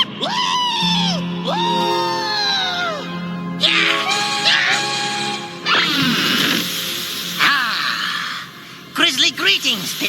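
Animated horror-comedy scene filled with loud, drawn-out screams from several voices, crashes and clattering bursts, and shrieking cries layered over one another, ending in a run of sharp yelps.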